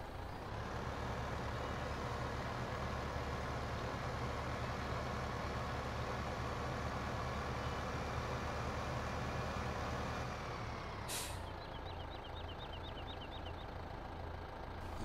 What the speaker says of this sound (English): Let's move this truck out of the way before it becomes a problem.